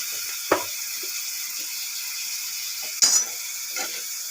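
Water is poured into spice masala with turmeric frying in a pan, giving a steady close sizzle with a few brief splashy bursts and no voices.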